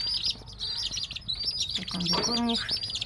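Chicks cheep in an aviary beside their mother hen, a quick run of high, thin chirps close by, with a lower clucking call from the hen near the end.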